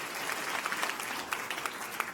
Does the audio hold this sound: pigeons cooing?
no